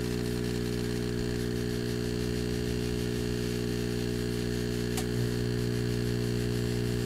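A steady low mechanical hum from a large laser cutter air assist pump drones continuously with a faint electrical buzz, unchanging throughout, with a small click partway through.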